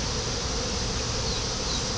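A honey bee swarm buzzing near a house, a dense, steady hum of many insects, loud and continuous throughout with no voices.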